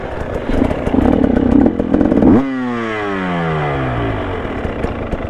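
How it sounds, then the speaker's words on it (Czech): An enduro motorcycle rides hard with loud, rough engine roar, then revs sharply and drops off as the rider shifts and the pitch falls away, close and alone with no talk. "Ta motorka mi nějak blbne dneska."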